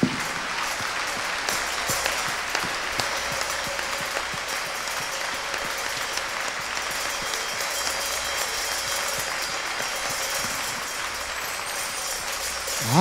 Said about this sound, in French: En cet instant, et par des acclamations, accueillons le pasteur Adenio de Palémé.